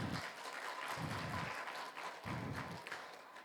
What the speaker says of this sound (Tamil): அதுக்கு ஒரு கைத்தட்டல் உங்களுக்கு.